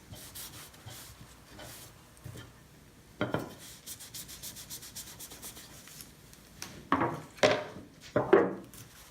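Wood surface being polished by hand before staining, close rubbing strokes in bursts, rapid back-and-forth scrubbing early on, then longer, louder sweeping passes toward the end.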